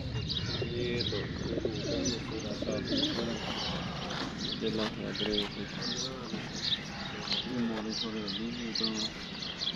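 Seven pigeons coo in soft, repeated rolling calls close by on a rooftop, with someone talking over them and occasional chirps in the background.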